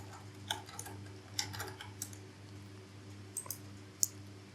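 Light, sparse keystrokes on a computer keyboard during a coding session, a few quiet scattered clicks over a steady low hum, with no talking.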